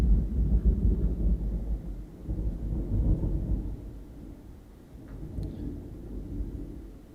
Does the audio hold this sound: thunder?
yes